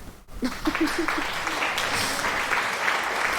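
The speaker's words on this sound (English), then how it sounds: "Thank you so much for the applause." Applause from a small audience, entering after a brief pause and swelling into steady, moderately loud clapping with a few faint tonal sounds near the start.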